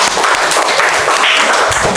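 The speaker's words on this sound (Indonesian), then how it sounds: "kita beri tepuk tangan untuk kelompok" A classroom of students gives a group a burst of applause, loud close-up clapping from many hands forming a dense, continuous rattle throughout.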